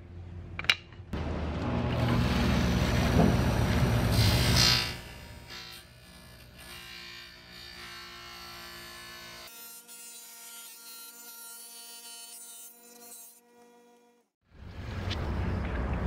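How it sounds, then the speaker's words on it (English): A Great White portable tile saw cuts a 4x12 glass mosaic piece with a loud grinding buzz. The motor then whines on at a lower level, spins down to silence, and starts up again near the end. "Now let's quickly cut both pieces of glass mosaic, 4x12 glass here."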